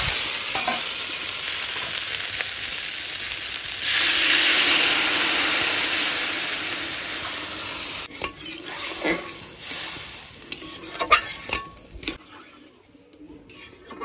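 Kohlrabi sautéing in a pan over winter-season home cooking: loud continuous sizzle with repeated stirring scrapes against the pan, fading into clatter and scattered sounds near the end.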